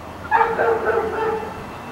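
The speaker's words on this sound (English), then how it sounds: "I hear the big dog barking." A large dog barks under a night sky in Fresno, a few close, fairly loud woofs and yips mixed with people talking outdoors.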